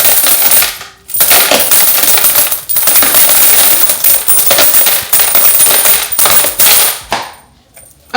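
Loose coins are emptied out of a heavy coin pouch and pour out in loud, close clattering bursts with short pauses between dumps. The last coins trickle out before it falls quiet.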